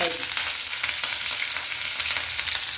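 Chopped onions frying in hot oil, a steady dense sizzle that holds even and close throughout with no voices.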